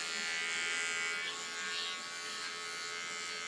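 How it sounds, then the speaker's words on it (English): A small electric hair clipper buzzes steadily up close, trimming hair on the nape and sides of a very short platinum pixie, its high whine dipping slightly as it presses against skin. "With a small clipper I clean the skin for as far as the clipper goes."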